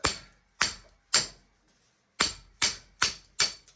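A hand tool strikes copper-wound transformers to break them apart: sharp metallic blows, three in quick succession, a short pause, then five more in a fairly even rhythm, close and crisp.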